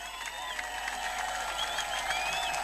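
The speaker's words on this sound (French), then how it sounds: "saluer sa mémoire à travers des acclamations frénétiques" A crowd at a street-renaming ceremony honouring Jules Wembadio cheers and applauds in tribute, a continuous rattle of clapping threaded with high whistles and shouts.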